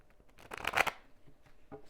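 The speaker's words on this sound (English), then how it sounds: "let's get a little shuffle in for these little baby cards" A deck of tarot cards is riffled and shuffled close by in a quick burst, followed by a few lighter shuffling rustles.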